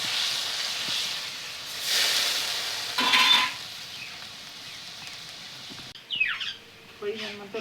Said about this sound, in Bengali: এবার সর্ষে, পোস্ত বাটা আর নারকোল বাটা এটা কড়াইতে দিয়ে দিচ্ছি তেলেতে